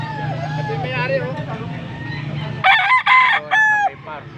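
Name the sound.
young rooster (bull stag) crowing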